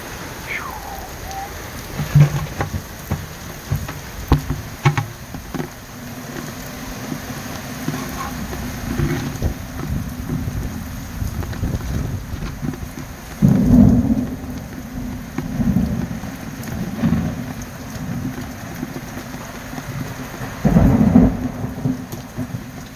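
Heavy rain driven by gusting wind pours down on a rural farmstead with a cattle shed, a steady roar broken by rumbling thunder and stronger surging gusts, loud and close with no talking.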